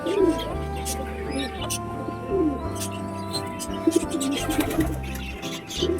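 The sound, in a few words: pigeons cooing, male pigeon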